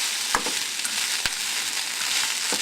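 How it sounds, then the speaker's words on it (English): Meat frying in a pan gives off a constant, fairly loud sizzle, with a couple of sharp clacks as it is stirred. "Just stir it up a little."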